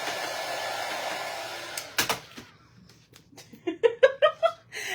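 A hair dryer blows steadily on paste, a soft continuous whoosh that cuts out, followed by a few sharp clicks and brief bursts of light laughter.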